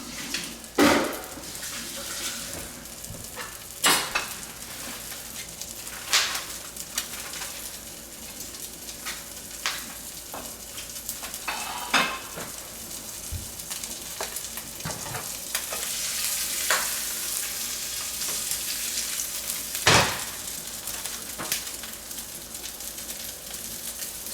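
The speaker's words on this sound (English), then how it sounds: "See that little sizzle?" Food frying in a pan gives a steady soft sizzle close by, broken by occasional stirring scrapes and light clicks of a utensil against the pan.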